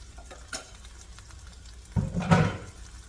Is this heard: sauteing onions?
yes